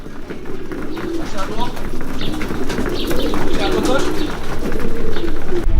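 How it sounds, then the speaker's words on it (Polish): Young racing pigeons coo continuously and loudly as they arrive at the loft during a competition flight, with faint background chatter and rustling throughout. "Możemy zobaczyć, idą kolejne gołębie,"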